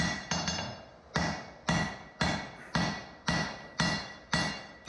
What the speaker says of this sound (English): I think it can begin to hit it with more force.